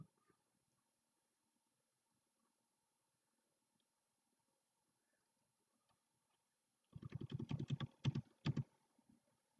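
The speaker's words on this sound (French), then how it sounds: "il faut taper les premières lettres du nom" Quick keystrokes on a computer keyboard arrive as a short, close burst of clicks near the end after a long stretch of near silence, with no talking.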